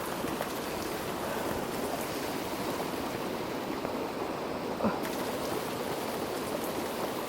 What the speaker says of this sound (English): water cutting through from the mountains on both sides, flowing